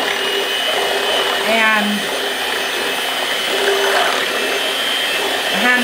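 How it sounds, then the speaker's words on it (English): An electric hand mixer whirs through bread pudding batter, a steady motor drone with brief pitch shifts as it works the mix, close and loud, with a voice speaking briefly over it. "I didn't have the strength to mix this thing by my hand, so I got the hand mixer."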